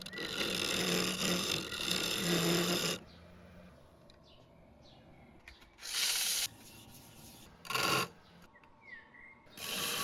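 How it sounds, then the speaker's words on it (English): Rasping sanding of a wooden vase turned on a lathe, a long scratchy stretch at the start followed by quiet gaps broken by three shorter bursts of abrasive rubbing. "Then some more sanding and finishing"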